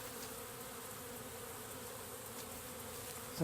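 A swarm of bees is hived, giving a soft, continuous outdoor buzzing hum at a distance with no clear breaks.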